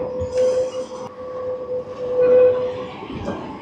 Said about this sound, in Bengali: বাহ, এখানে কি সুন্দর ট্রাম ঘুরছে